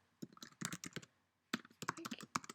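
Typing on a computer keyboard, two quick bursts of close, crisp key clacks separated by a brief pause.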